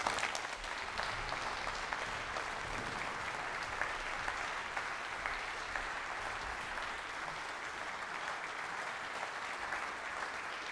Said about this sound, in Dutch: Mag ik een hartelijk applaus voor dirigent Egbert van Groningen.